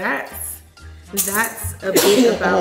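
A person sneezes once, a short sharp burst amid casual conversation, with talking before and after it.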